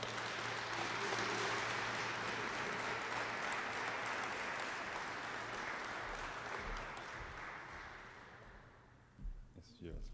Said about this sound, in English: So please, everyone in this building, give this guy a wonderful applaud.